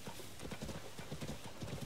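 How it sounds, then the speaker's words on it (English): Horse hooves clip-clop in quick repeated steps with a brief whinny, from Zelda: Tears of the Kingdom, loud and close with no talk over them. "Why do I get kicked by every horse I try to mount?"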